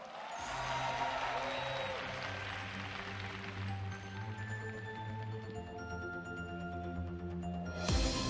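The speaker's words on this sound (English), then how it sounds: "please welcome with a big sound of applause." A large audience applauds at the Miss Universe 2018 national costume presentation, a soft, distant, sustained patter of clapping under a resonant hall ambience and steady tones, ending in a brief louder burst.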